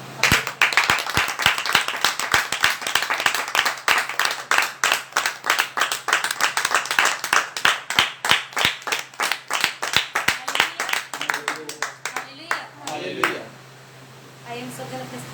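A church congregation claps in quick, steady rhythm, loud and close, sometimes with voices and singing blending in, before the clapping tapers off near the end.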